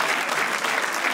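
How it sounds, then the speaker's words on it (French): Audience at a comedy club applauds steadily, a dense, even wash of clapping filling the room without any voices on top. "On peut l'applaudir pour son courage."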